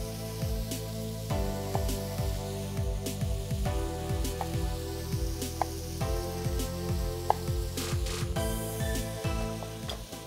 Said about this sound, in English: And then just continue to keep an eye and stir the bacon.